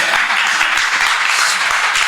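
An audience at a council candidates' debate breaks into loud, dense applause, a continuous wash of clapping close up that fills the whole moment.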